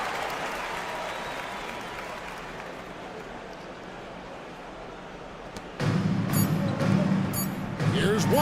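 Home crowd in a basketball video game, steady applause and crowd noise under a commentator's voice, which swells into louder cheering near the end.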